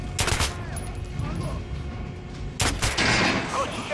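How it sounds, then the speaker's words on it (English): Gunshots fired at a training dummy in Metro Last Light, two loud bursts of rapid shots separated by a quieter stretch, close and sharp, with no talking. "Try shooting for the center of the regular dummy's chest"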